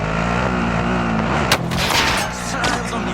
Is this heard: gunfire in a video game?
yes